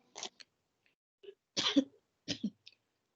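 Several dry coughs come in short bursts with pauses between them, close and fairly loud, with no talk around them.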